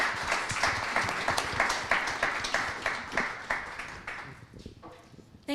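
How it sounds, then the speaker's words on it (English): Audience applause for the panelists at a due diligence event, a steady wash of clapping with distinct claps that keeps going for about four seconds, then thins out and tapers near the end. "Another round of applause for our amazing panelists."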